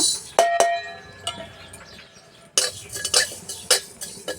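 Whole fenugreek and cumin seeds stirred in a kadai over a wood-fired clay stove for pickle, giving scattered metallic scrapes and clinks of a spoon against the pan, near and moderately loud, busiest near the end.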